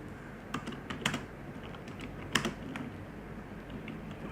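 Keys clatter on a computer keyboard in scattered, irregular bursts, with a few louder clicks standing out against a steady low room hum and no voices.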